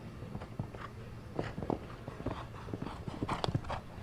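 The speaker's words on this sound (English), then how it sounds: "See the horse going a little left and right through that treble" Hooves clip-clop over turf as a show-jumping horse works through a treble combination at a Grand Prix final at Steyn City, an uneven run of moderate thuds at middle distance against faint arena noise.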